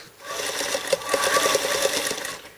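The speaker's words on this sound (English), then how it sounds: "You're going to sew it with a 1/4 inch seam." A sewing machine stitches a quarter-inch quilt seam through a quilt-as-you-go block and folded sashing, a close, steady rapid needle chatter running continuously for the whole stretch.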